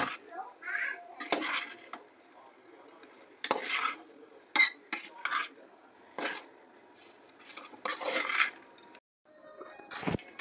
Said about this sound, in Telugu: సో అలా వేసాక దీన్ని బాగా మనం మిక్స్ చేసుకోవాలి